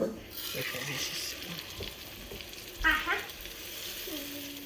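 Marinated fish pieces frying in a little hot oil in a pan make a faint steady sizzle, with a brief louder clatter partway through as a piece is placed or moved.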